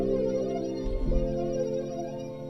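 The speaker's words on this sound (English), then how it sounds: "I'm gonna go ahead and use Moonwater keys inside Alchemy, and it sounds like this." A soft Moonwater keys synth preset from Alchemy sustains a warm chord that shifts to a new chord about a second in, played quietly and alone.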